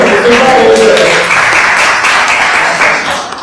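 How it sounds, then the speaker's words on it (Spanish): Audience applause at a panel discussion for an art exhibition, a loud, dense wash of clapping that holds steady for a few seconds with voices mixed in underneath. "Yo quería aplaudir."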